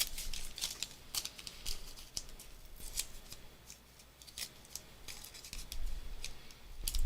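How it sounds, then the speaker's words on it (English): Excess paper is torn off a craft piece in a quick series of close, crisp rips and crackles, with no talking over them. "I'm just tearing some excess paper off of this."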